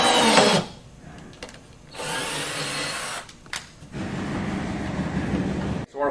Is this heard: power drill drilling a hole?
yes